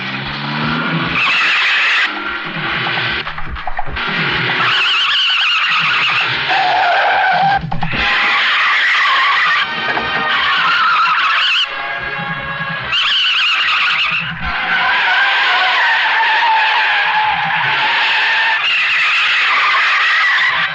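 A new car driven hard in a Sanjay Dutt action film, tires skidding and squealing in repeated long bursts with engine roar, loud and close, broken by brief gaps over about twenty seconds.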